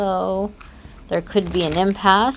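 Tarot cards shuffled by hand, soft papery riffling and sliding heard faintly in the gaps of continuous talking.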